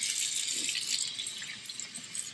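Tap water running steadily into a sink while a six-week-old Aussiedoodle puppy is rinsed, a close, continuous hiss and splash with no talk.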